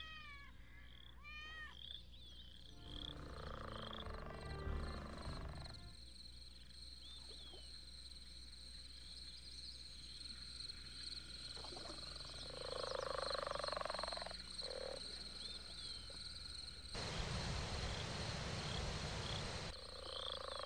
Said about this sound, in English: He's also got little frog noises when they go down by the water.